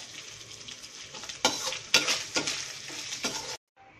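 Ham frying in a pan for carbonara gives a steady close sizzle, broken by several louder bursts of stirring and scraping before it cuts off abruptly.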